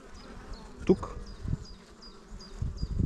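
Honeybees buzzing at open hive frames holding brood, a close, busy drone with individual bees whining past, plus a brief knock and a short spoken word.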